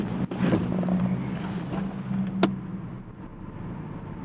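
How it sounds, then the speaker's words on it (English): The cooling fan on a 1980 Porsche 924 Turbo hums steadily close by, with a faint click partway through and no talking. "No, my little fan turned on."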